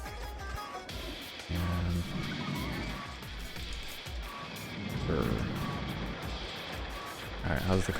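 Game sounds from a car ride in RollerCoaster Tycoon, engine-like hum and beeping tones layered with park ambience, heard under steady talking throughout.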